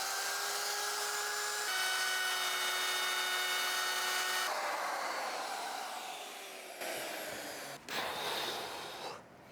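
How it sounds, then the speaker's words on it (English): A handheld wood router with a big bit runs at high pitch as a steady motor whine, then dips and roughens as it bites into wood, ending in a brief bog and snarl. "I'm gonna try and use the router handheld using the big bit."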